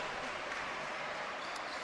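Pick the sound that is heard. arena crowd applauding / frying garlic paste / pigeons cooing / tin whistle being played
arena crowd applauding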